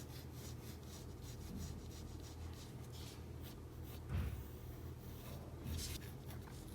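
Pencil lead rubbing and scratching across paper while sketching an oval head shape in a drawing of Buzz Lightyear from Toy Story, with steady close strokes and a few firmer scrapes.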